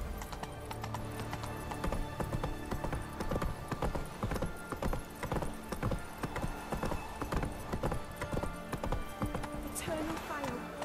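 Roach the horse galloping in The Witcher 3: rapid, rhythmic hoofbeats pounding continuously at close range, with a brief whinny near the end.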